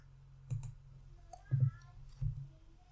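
Three distinct computer mouse clicks, close and dry, spaced about a second apart over a quiet background, clicking a Done button.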